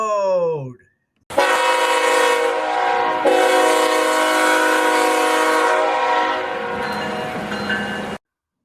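Train rumbling past on a railroad, a loud sustained horn-like tone with dense harmonics holding for about seven seconds after a brief lead-in, then cutting off abruptly.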